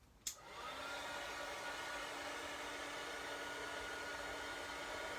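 A heat tool blows hot air for heat embossing during a stamping and inking session, starting with a click and then running as a steady, moderately loud hair-dryer-like whoosh with a faint tonal hum.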